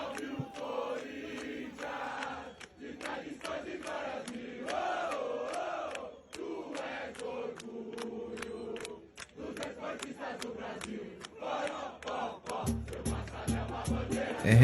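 Corinthians supporters sing in unison outside the stadium, a massed crowd chant rising and falling with sharp percussive hits throughout, swelling louder near the end.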